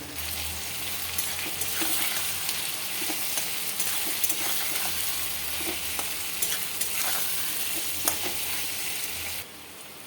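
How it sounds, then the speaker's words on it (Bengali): Potatoes and onions frying together in a pan with salt and turmeric, a steady close sizzle and hiss with soft scraping stirs, continuous for the whole stretch before easing slightly at the end. "আলু পেঁয়াজটা ভাজা হচ্ছে"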